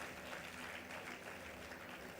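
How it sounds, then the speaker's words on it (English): An audience at a university convocation claps for graduating students in a steady, even patter, faint and somewhat distant. "May I keep requesting you to please applaud for our students."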